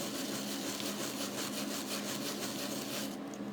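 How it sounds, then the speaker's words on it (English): A wire brush scrubbing embossed silver jewellery, a rapid rhythmic rasping with regular back-and-forth strokes, close and fairly quiet, steady throughout with no talk. "with this I just use the wire brush and just shine it out like that on the front with the wire brush"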